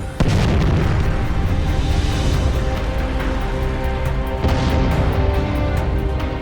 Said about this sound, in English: The explosion forces the fire inside the plane.